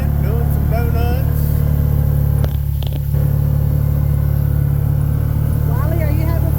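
A car packed with a family drifting and doing donuts through snow, its engine droning loud and steady close by while people inside talk over the constant rumble.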